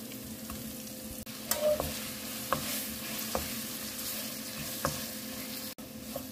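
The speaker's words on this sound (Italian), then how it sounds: "Rosoliamo bene da tutte le parti." Floured chicken breast pieces frying in a pan of olive oil and garlic, a steady close sizzle with a few spoon scrapes and stirring taps, no voices.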